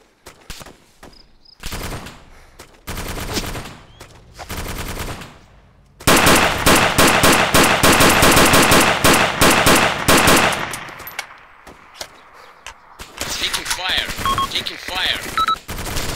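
Sustained automatic gunfire from a multiplayer military shooter game running the FDF mod, loud bursts of machine-gun fire with scattered single shots, mixed with intermittent voice chat before and after.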